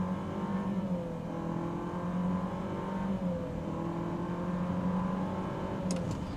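Renault Duster 1.3 Turbo pulling from a standstill to 100 km/h with the air conditioning off, a steady droning engine rising through the revs from inside the cabin, with a couple of faint clicks near the end and no talking.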